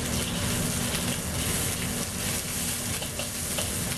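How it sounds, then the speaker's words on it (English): Shrimp fry gently in a pan over lowered heat for a Cantonese chow mein, giving a steady, close sizzle with faint stirring noises throughout. "So you just fry them up,"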